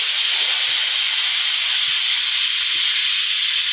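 A pressure cooker holding amla for morawala releases steam after a single whistle, a loud, unbroken hiss that stays even throughout with no voices.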